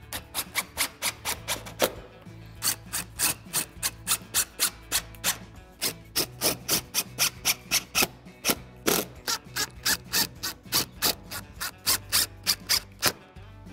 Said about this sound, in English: Then reinstall the factory screws.